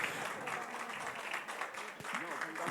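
Audience applause at a journalism awards ceremony, a dense, even patter of many hands clapping at a distance, with a voice talking faintly over it near the end.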